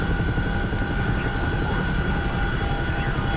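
A Chinook helicopter in a hardcore logistics game drones steadily and close, its engine and rotors making a dense, unbroken roar with no voices over it.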